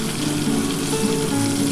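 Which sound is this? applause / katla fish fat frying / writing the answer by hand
katla fish fat frying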